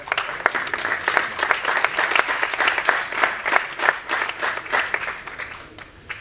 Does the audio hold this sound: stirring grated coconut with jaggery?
no